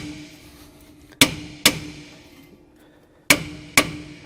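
Four sharp metallic hammer strikes ring out against a stuck truck brake drum, in two pairs with a pause between, each loud, close and followed by a brief ringing decay.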